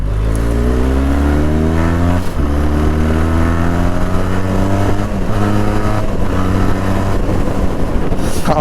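A Benelli TRK 502 adventure touring motorcycle's engine revs hard and pulls through rising gears, loud and close, with steady wind rush throughout and no talk.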